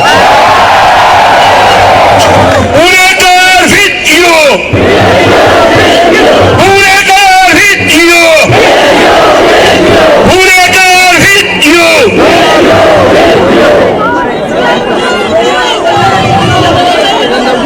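A loud protest crowd in Pune cheers and shouts in repeated rhythmic bursts of chanting and whoops, close and overpowering, with constant crowd noise between the surges.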